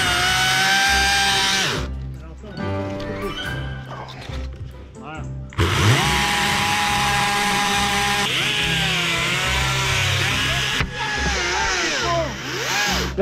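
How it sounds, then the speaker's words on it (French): A loud chainsaw engine buzzes close by as it cuts a branch, dropping to idle and revving again in bursts, its pitch shifting as it bites, with voices heard at moments. "la tronçonneuse"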